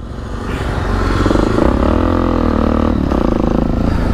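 A Suzuki DR-Z dirt bike engine on a wooded trail, revving up loud and close, rising and holding a strong drone with a few throttle shifts and no talk.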